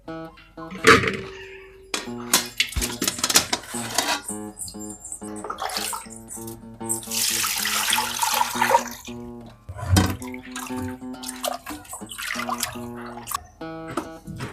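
Raw fish being washed by hand in water while preparing a fish curry: continuous close sloshing and splashing with uneven bursts, over steady background music and no talking.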